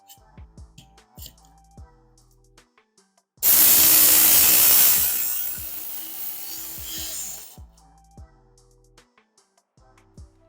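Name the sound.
sharpening a knife on a belt sharpener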